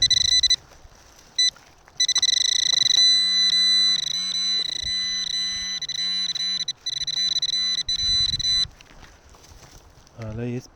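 Metal detector signal during a field search, electronic tones switching on and off, then a long sustained beep with a warbling low tone underneath, loud and close, with brief talking around it.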